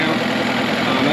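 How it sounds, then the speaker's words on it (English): A Mercury 15 hp outboard motor, its carburetor set 1.5 turns out, runs with a steady, loud, even drone through a brief moment. "The engine started on the first pull"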